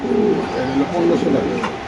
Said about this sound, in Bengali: দেখতে পাচ্ছেন খুব সুন্দর বড় সাইজের কবুতর